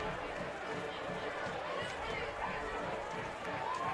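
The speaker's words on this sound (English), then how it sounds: "Home crowd just kind of hushed." A quiet home crowd at a high school football game murmurs and chats in the stands, a steady, diffuse hubbub of many distant voices with no cheering.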